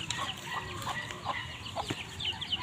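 Chickens cluck softly in a short run of repeated calls, set against a steady outdoor background in Negros, Philippines.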